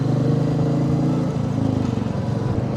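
A motorcycle cruising along a highway in Bihar, its engine giving a steady, close droning hum with slight throttle wavering and no talking.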